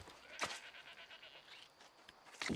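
Goat in the video game New World lets out two short bleats, one early and one at the end, with faint game ambience between them and no talking.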